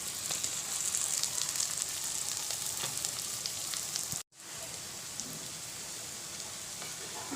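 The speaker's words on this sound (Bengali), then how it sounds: "এই টমেটো কুচিটাকেও এবারে আমি তেলের মধ্যে দিয়ে দিচ্ছি" Chopped tomato and onion frying in hot oil for a fish kalia give a steady, close, dense sizzle that cuts out for a split second midway and then resumes just as strongly.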